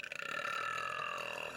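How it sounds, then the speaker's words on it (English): A long, loud, drawn-out burp from a girl after eating popcorn, close to the mic and tonal, sustained for over a second on its own. "I don't know what it is about popcorn that makes me burp so much."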